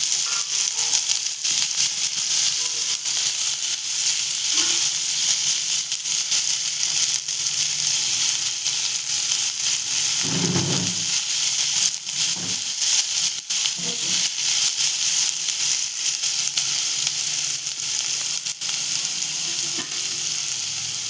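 Chopped onion and green chilli sauté in oil in a pan: a loud, continuous sizzle and crackle running throughout, with a few faint clinks of stirring.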